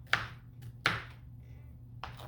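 A knife chops through pineapple on a cutting board, giving three sharp, separate thunks spaced out over a couple of seconds against a low background hum.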